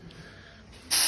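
A cleaner spray bursts onto car brake disc mounting surfaces, a sudden loud close hiss starting near the end after a quiet workshop background.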